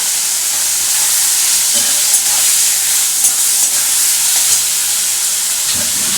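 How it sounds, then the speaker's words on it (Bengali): Prawns and spices fry steadily in a pan for Bhindi Chingri Masala, with a continuous loud hiss and sizzle, a few soft knocks partway through, and no voices. "এটাকে আমি ভালো করে একটু ভাজছি"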